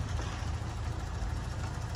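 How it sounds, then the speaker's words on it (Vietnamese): The 1.8 engine of a 2005 Japanese eight-seat car idles with the hood open, a low, smooth, steady rumble heard quietly and alone. "Đây, máy đang nổ rồi đấy."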